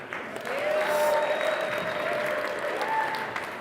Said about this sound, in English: Let's give Alex and his crew a big round of applause.